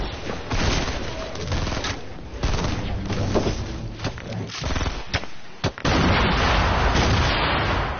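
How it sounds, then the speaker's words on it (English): Video game grenades go off in a loud burst of overlapping blasts and gunfire-like cracks, one sharp hit near the middle and a dense roar at the end, with a voice talking briefly over it. "Those are my grenades I'm sending in."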